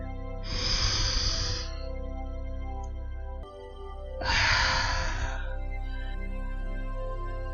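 Two slow, deep inhales of breath, each lasting about a second, close and airy over a soft sustained musical drone in a calm hypnosis setting.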